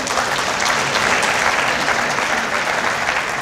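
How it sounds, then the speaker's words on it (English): Audience applause fills the space steadily at the close of a religious public gathering, a dense, even wash of many hands clapping with no break, loud and close throughout. "Give yourselves another round of applause."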